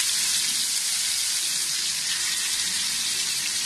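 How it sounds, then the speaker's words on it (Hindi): Mutton tikka boti sticks fry in oil over a low flame, giving a steady, even hiss of sizzling that holds constant and fairly close throughout with no talking. "अब लो फ्लेम पे इसको फ्राई करेंगे।"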